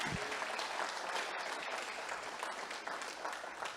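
Church congregation applauding together during a sermon, a steady dense clapping that fills the space for several seconds without pause.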